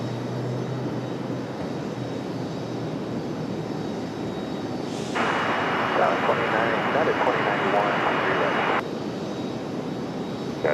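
A passenger airliner arriving at Raleigh-Durham airport roars steadily with broadband jet engine noise, close and loud, growing stronger partway through and holding for several seconds before easing slightly.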